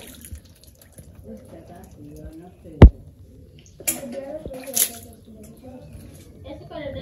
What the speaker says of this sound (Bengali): হাঁস আবার স্নান করতেছে কালা করছে কি মেলা সময় দিয়ে স্নান করে আনছে